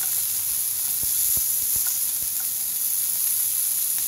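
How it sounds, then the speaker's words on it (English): Wagyu beef searing in a hot pan over a switched-off flame, a steady close hiss and sizzle with a few sharp spattering pops scattered through. "I'll sear the other side."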